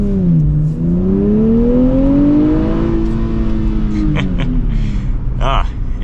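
A 2024 Nissan Z Nismo engine drones loudly from inside the cabin, its pitch dipping then climbing and holding as the car accelerates, with short squeaks and clicks near the end.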